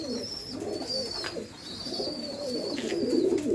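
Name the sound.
pigeon cooing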